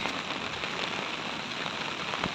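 Heavy monsoon rain pours down near flooded paddy fields and roads, a dense, even hiss of drops drumming on surfaces, steady and close with no talking.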